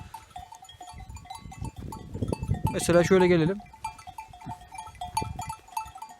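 Sheep in a grazing flock on a pasture, one of them lame, let out a loud wavering bleat in the middle of the clip, while someone talks nearby and faint bell-like tones ring throughout.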